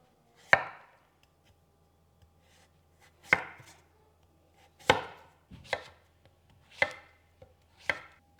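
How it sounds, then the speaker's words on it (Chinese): A knife chopping pumpkin into pieces: six sharp, separate chops spaced irregularly, close and crisp with quiet pauses between them and no voices. "首先要把我们的南瓜切块，大小要适中，不要切得太大块"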